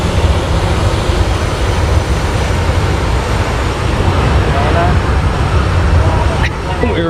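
A WestJet airliner's jet engines run up to full power right in front of the left engine near the airport beach, a loud, steady broadband roar that fills the whole stretch without letting up, with people talking underneath.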